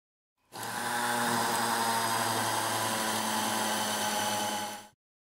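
A 3.5 mm standard dental implant drill boring into bone gives a steady, faint whirring buzz that starts abruptly, runs evenly for about four seconds and stops, alone without talk.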